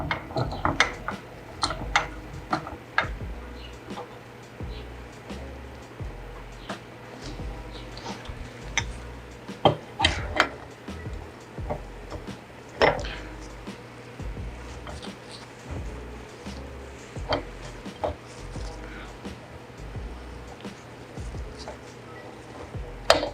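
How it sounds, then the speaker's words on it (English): A Cleco 75 Series nutrunner clamped in a vise runs with a low motor hum under irregular mechanical ticking and clattering, close and moderately loud throughout. "Easiest way I've seen do this is putting this on the vise first and then"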